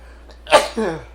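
A single sharp sneeze up close, a quick intake followed by a burst, trailing off into a short voiced exhale.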